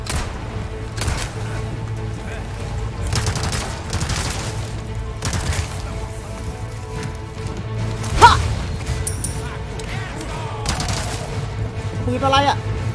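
Gunfire in Resident Evil 4 Remake, scattered sharp shots and thuds at irregular intervals over a low game ambience, with one louder blast near the middle.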